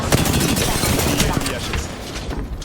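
Gunfire in the video game Apex Legends, a dense burst of rapid shots that fills the whole stretch at close range, with game voice chatter mixed in.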